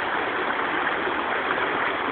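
Fall River running high over big rocks in its bed makes a steady, close rushing roar with a constant gurgling wash and no pauses.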